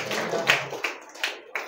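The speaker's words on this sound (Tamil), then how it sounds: "கையை தட்டு" Hands clap in a steady rhythm during a Tamil church sermon, about five sharp claps spaced evenly and close, after a brief stretch of murmur at the start.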